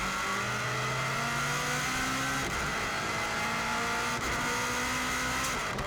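A 2016 Subaru WRX STI runs flat out on the Isle of Man TT course, its engine loud and close under sustained load, pitch climbing through gears with brief dips at shifts and a constant rushing roar.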